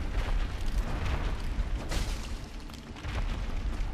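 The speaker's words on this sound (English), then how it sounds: "this is that, like, explosion attack." A boss's explosion attack in Dark Souls: a sustained roaring, rumbling blast with dense low-end booms and crackling bursts, continuous for several seconds, no voices.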